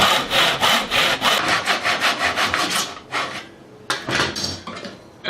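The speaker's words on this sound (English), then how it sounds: "Then you just drop your saw into the slots and start cutting." A handsaw cutting a miter in a wooden board clamped into a guide, with steady back-and-forth rasping strokes up close, a brief pause, then a few more strokes.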